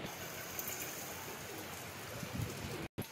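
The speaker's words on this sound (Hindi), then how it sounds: "गाइस बाहर बारिश चालू हो गई है" Steady hiss of rain falling outside, a dense continuous wash with a few louder drips near the end.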